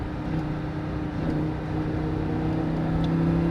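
A Lamborghini Huracan's engine on a race track, a steady, loud, close drone with a slow rise in pitch as the car accelerates. No voices.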